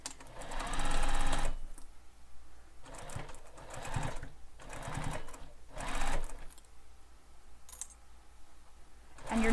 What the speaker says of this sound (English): we're going to stitch down the sides of the pocket